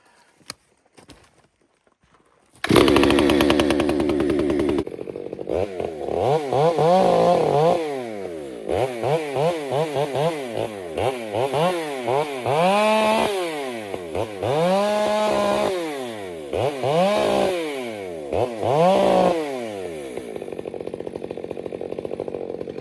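A modded chainsaw cutting firewood starts up with a sharp roar, then revs up and down repeatedly in loud, close bursts that rise and fall in pitch.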